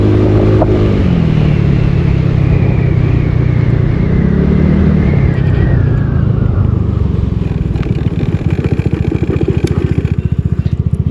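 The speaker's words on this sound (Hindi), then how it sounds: "मैं चुप हो जाता हूँ और थ्रोटल दे रहा हूँ।" A TVS NTORQ 150 scooter engine under throttle while riding in street mode, revving up with a rising whine, then settling into a fast, rough pulsing note near the end, loud and close with no talking.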